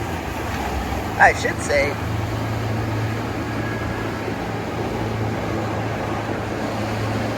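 A motorboat runs at full throttle off Boynton Beach, Florida, giving a steady, unbroken roar with a low engine hum underneath. A voice speaks briefly near the start.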